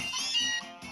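A Meowth cry in the Pokémon Sun video game: one short, bright, synthesized cat-like meow heard alone over steady game background music.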